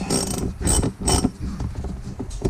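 Ratcheting 19mm wrench with an extension turning a bolt on a 2012 KTM 150 SX dirt bike, a close, steady run of clicking strokes with a few louder bursts and no talking.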